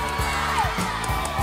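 Students at a school event cheering and whooping together, a continuous crowd roar with children's shouts rising and falling over a short stretch.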